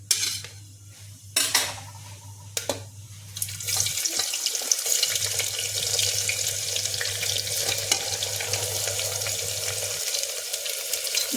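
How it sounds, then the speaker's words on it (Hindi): Chopped onions tipped into hot oil with whole spices for mutton keema, a loud hiss rising into steady sizzling frying that carries on to the end, preceded by a few clinks of a utensil against the pan. "अब डाल देंगे प्याज।"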